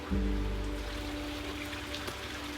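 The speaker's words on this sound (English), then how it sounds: "The rain hadn't stopped" Rain falls steadily in Gjirokaster, Albania, a soft, even patter and hiss running throughout, with a low mechanical hum underneath.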